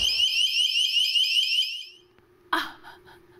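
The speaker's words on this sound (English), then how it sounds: "Was that fire alarm or burglar alarm?" A fire or burglar alarm shrills in a rapid, loud warbling pattern for about two seconds, then cuts off, followed by a brief clatter and faint low hum.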